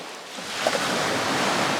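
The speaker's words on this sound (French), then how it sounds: "Hop là, les vagues." Ocean waves rush onto a black sand beach on Nusa Penida, Bali, as a broad, steady wash of surf that swells and then holds loud and close, with no voices.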